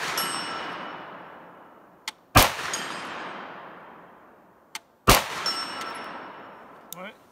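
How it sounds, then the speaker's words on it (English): Bullets strike a steel target at a rifle range with an AR-10 in use, giving two loud sharp metallic clangs that ring and fade for a couple of seconds each, with a few fainter clicks and dinks between. "That's hitting the steel, that's the ring you're hearing."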